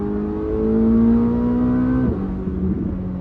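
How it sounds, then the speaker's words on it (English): A Chevrolet Corvette ZR1 engine under load, its turbo building boost and then bypassing pressure: a loud, steady engine drone with a rising whine that drops suddenly near the end. "the turbo sounds, I can hear it actually building and letting pressure off"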